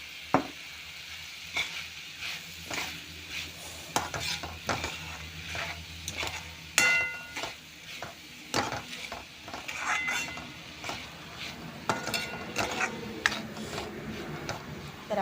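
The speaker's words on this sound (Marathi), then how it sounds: "तर आता हे सगळं मिक्स करून एक अर्धा मिनिट शिजू द्यायचं" Grated fresh coconut and coriander stirred into a broad bean pod curry in a pan, repeated spoon scrapes and clinks against metal over a soft sizzle, fairly quiet with no talking.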